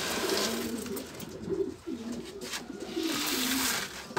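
Pigeons coo in soft repeated low phrases, close by and fairly steady over a broad background hiss, with no talk.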